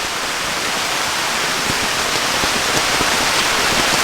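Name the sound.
torrential heavy rain on a camping tent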